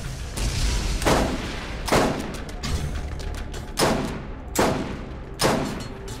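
Rifle gunfire in the video game Borderlands: five loud, sharp shots spaced about a second apart over a steady rumbling game background, with no talk.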